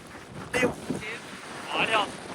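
Strong wind gusts buffet an outdoor microphone during a trip in Japan, making a rough rumbling roar. Voices exclaim over the noise in short bursts.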